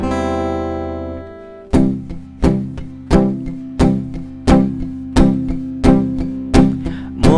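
Palm-muted acoustic guitar strumming a song's pattern: after a sustained ringing chord, about nine evenly spaced, damped percussive strums pulse steadily, close and fairly loud, with no voices.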